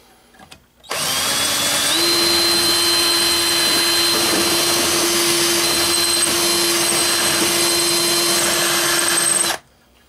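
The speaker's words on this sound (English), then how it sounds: "the problem with drilling these is that they spin." A power drill bores into a small pinball machine part, spinning up quickly and holding a loud, steady high whine for about eight seconds before stopping, with no talk over it.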